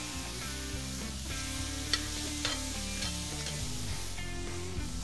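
Thin-sliced meat and vegetables frying in a skillet for a grilled pizza, a soft continuous sizzle with occasional stirring scrapes, faint beneath steady music.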